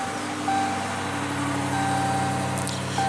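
A 2015 Dodge Charger's 5.7 liter Hemi V8 idles just after push-button start-up, a steady, close, low rumble that holds evenly throughout with no talking.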